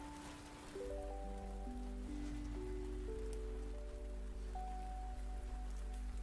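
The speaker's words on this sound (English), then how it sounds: "It's raining right now outside." Steady rain falls outside as a soft, even hiss that never stops. Quiet sustained musical tones play over it.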